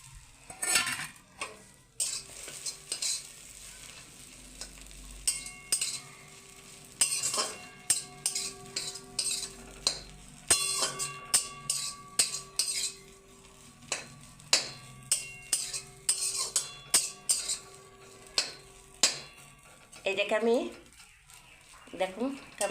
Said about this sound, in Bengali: এই যে বেডের ধারগুলো কড়াইয়ের মধ্যে দিয়ে দিলাম